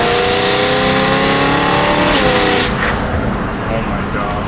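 A BMW M3 engine revs hard and climbs in pitch, then eases off, loud and close from inside the car on a mountain road, with a person talking over it.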